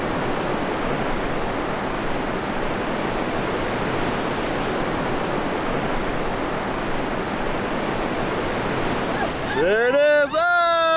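Ocean surf breaks at a beach on a cross-country cycling trip, a loud continuous roar of waves with wind rumble, followed briefly by a voice at the end.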